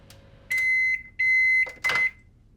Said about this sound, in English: So we now pop that into the microwave.